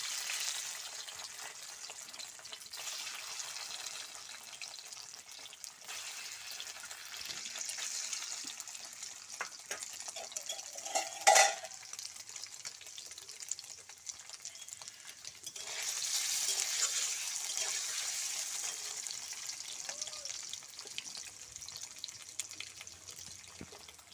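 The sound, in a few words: paneer frying in oil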